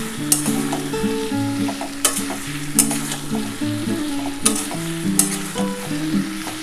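Potato and pointed gourd (aloo potol) vegetarian curry with Kashmiri chili powder being sautéed and stirred in a pan, a loud, close sizzle broken by several sharp spatula scrapes, with steady tonal sounds behind.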